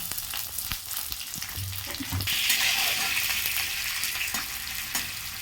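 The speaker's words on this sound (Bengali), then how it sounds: "এবার এর মধ্যে দিয়ে দেবো পেঁয়াজ কুচি পেঁয়াজটাকে ভালো করে ভেজে নিতে হবে" Chopped onions fry in hot oil over a curry-leaf tempering, giving a steady close sizzle that grows louder partway through, with faint stirring.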